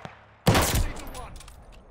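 A Kar98 sniper rifle in a video game fires a single loud, sharp shot that booms and then trails off into a fading echo.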